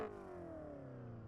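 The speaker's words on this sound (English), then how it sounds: "this car is already kicking off to a really good start because of the startup sound when you swap cameras" BMW M5 CS in the No Hesi driving game firing up, a loud engine note with a steady low rumble and a falling tone that settles into idle, heard alone.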